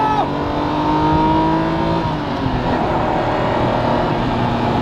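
A 1988.5 Lamborghini Countach 5000 QV engine revs hard under full-throttle acceleration, its pitch climbing steadily with a brief drop at a gear change, loud and close.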